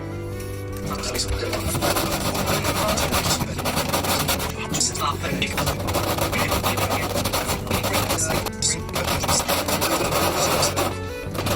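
Steady rhythmic rubbing and rasping of a wooden guitar bridge for a 1965 Gibson J-50 against sandpaper, back-and-forth strokes close up with brief pauses.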